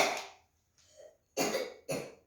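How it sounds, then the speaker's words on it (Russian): Child coughing during a breathing exercise: a cough, a faint short sound, then two more sharp coughs, all close and clear with quiet pauses between. "Покашляй немножко."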